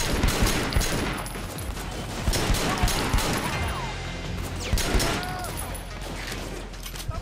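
Video game gunfire in TriadWars crackles in dense, rapid bursts of shots with crashing impacts, loud and continuous throughout, with a player's voice faintly underneath.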